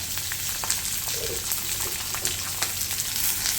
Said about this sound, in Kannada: ಎಲ್ಲ ಸ್ವಲ್ಪ ಫ್ರೈ ಮಾಡ್ಕೋಬೇಕು.